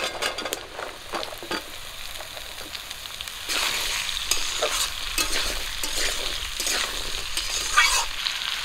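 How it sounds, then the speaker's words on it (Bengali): Onion and green chilli fry in a pan as washed ridge gourd and potato go in for a silver carp fish curry; crackling sizzle swells louder midway, with brisk stirring scrapes throughout and no talk. "পেঁয়াজ আর কাঁচা লঙ্কা একটু লাল করে ভেজে নেব। ধুয়ে রাখা ঝিঙে আর আলু দিয়ে দিচ্ছি।"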